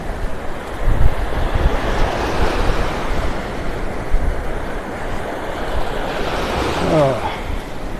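Incoming tide on a beach at North Naples, Florida: continuous loud surf and wave wash with wind rumbling on the microphone, a swell building near the end.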